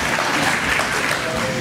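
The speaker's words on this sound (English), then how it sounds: "Clap if you liked it." A brief burst of full audience clapping at a Saturday night Hee Haw country music show, even and continuous across the short moment.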